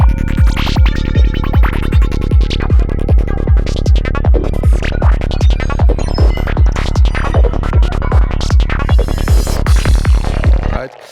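A psytrance track section plays loud and dry, without added ambience, driven by a pounding, evenly spaced kick and bass pulse. Bright synth stabs and percussion run over the beat before it cuts off abruptly at the end.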